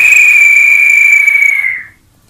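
A man imitates a traffic policeman's whistle at a crossroads with his voice, giving one long steady shrill blast that holds for nearly two seconds before cutting off abruptly, loud and close, with no talk over it.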